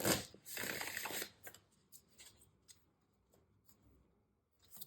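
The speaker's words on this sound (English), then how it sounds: "So I'm going to pull an affirmation card for you" Affirmation cards being shuffled and pulled from a deck, a dense riffling burst in the first second followed by softer scattered card flicks and taps, close and quiet with no voices.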